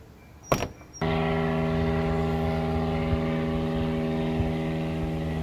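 A steady, loud drone of an aircraft passing overhead near a beach, with strong stacked engine hum holding for several seconds after a short burst of other noise at the start.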